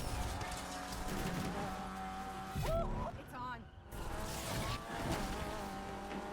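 A car drifts in Need for Speed Unbound, its engine roaring loud and steady with a tire squeal and a brief dip midway, all under game music and someone talking over it.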